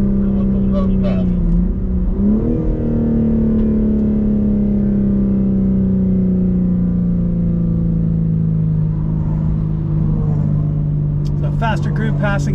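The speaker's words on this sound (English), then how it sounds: "Faster group passing us here, so we just tucked into the left to let them go by" Loud engine drone inside a BMW M car on a race track with a steady pitch slowly falling, while a faster car roars past nearby; brief talk at the start and end.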